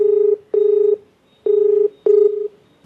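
A telephone dials, giving four clear, loud touch-tone beeps in an uneven rhythm, each held for a fraction of a second with short gaps between.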